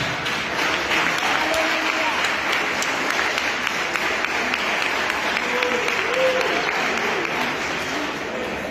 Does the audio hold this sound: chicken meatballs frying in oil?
no